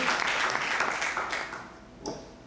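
A church congregation applauds during an evening service, a burst of clapping that is strongest at first and then thins and fades, ending with a brief faint stir.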